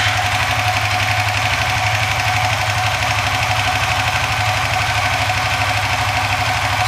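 Motorcycle engine idling after ECU tuning, a steady, even mid-pitched chug with a fast regular pulse and faint mechanical vibration, running close and alone without any talk.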